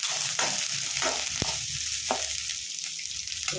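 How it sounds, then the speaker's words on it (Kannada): Garlic and dried chillies frying in hot oil in a pan for tomato chutney, a steady bright sizzle throughout with a few scraping stirs and one sharp tap against the pan. "ಬೆಳ್ಳುಳ್ಳಿ ಒಣಗಿದ ಮೆಣಸಿನಕಾಯಿ ಬೇಡಿಗೆ ಮೆಣಸಿನಕಾಯಿ ಎಲ್ಲ ಹಾಕ್ಕೊಳ್ತೀನಿ ಆಮೇಲೆ ಫ್ರೈ ಮಾಡ್ತೀನಿ"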